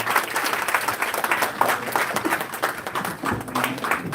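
At an international conference, a large audience applauds after an inaugural address, a dense, continuous wash of clapping that holds steady for several seconds.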